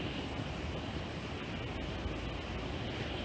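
A river swollen after heavy rain rushes over a drop in its bed, producing a constant, dense roar of churning water heard steadily throughout on a misty day.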